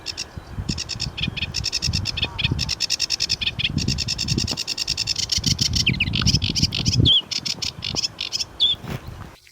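A sedge warbler sings in a wetland, a fast, busy run of chattering, scratchy phrases and trills, close and loud, with a low patter and other faint calls underneath.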